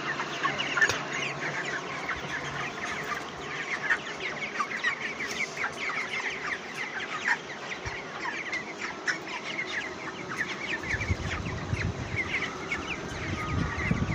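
Dense flock of 22-day-old broiler chickens clucking and peeping steadily in a hot poultry shed, with fans running, a continuous busy chatter throughout and a low rumble rising near the end.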